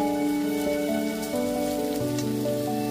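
Chopped onion frying gently in a pan over a low-to-medium gas flame, a steady hiss of sizzling oil beneath sustained background music, with no talk.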